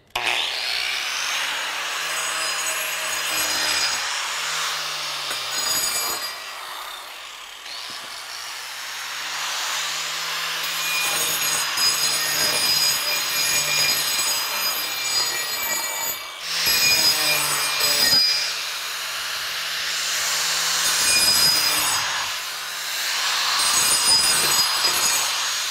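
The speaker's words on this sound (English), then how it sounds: "we use a cup grinder because this will take the edge off of just about anything" A cup grinder whines continuously against a concrete edge, loud and close, its harsh scraping pitch dipping briefly several times as pressure shifts.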